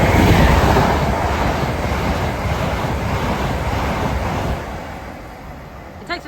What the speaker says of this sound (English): the next train to make an appearance is going to be the return of 807